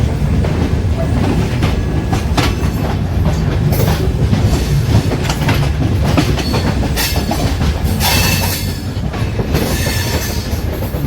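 Jhelum Express passenger train running near New Delhi station, a steady loud rumble with rapid clickety-clack of wheels over rail joints and brief metallic squeals, continuous throughout.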